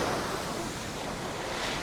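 Ocean waves washing in steadily on Bangtao Beach, a continuous loud roar of surf mixed with wind buffeting the microphone, with no voices.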